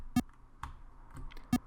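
Arrow keys on a computer keyboard tapped during a game of Pong, giving two sharp, fairly loud clicks about 1.4 seconds apart with a few faint softer taps between them.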